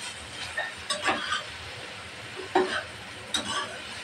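Bitter gourd fry with salt and turmeric being stirred in a pan over low heat gives a faint hiss and a handful of brief scraping strokes at irregular intervals.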